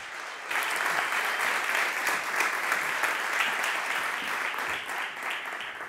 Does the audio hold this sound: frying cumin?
no